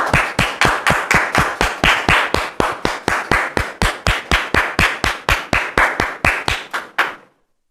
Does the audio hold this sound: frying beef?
no